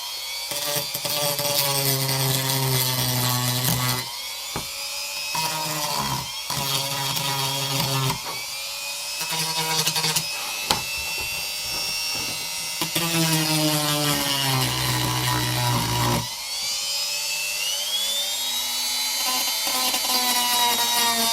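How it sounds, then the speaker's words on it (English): A high-pitched rotary tool with a sanding bit whines steadily as it smooths a wooden Mustang-style guitar body, its pitch dipping and rising under load in several long passes. "just go around with a sanding bit and just smooth it all off"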